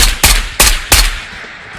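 Three loud, close gunshots crack out in quick succession in the video game Ghost of Tabor, each followed by a brief echoing tail that fades away.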